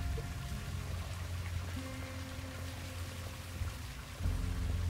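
Water pours and trickles steadily in the adventure game Truberbrook, a continuous splashing flow under a low ambient hum, fairly loud and close with no voices.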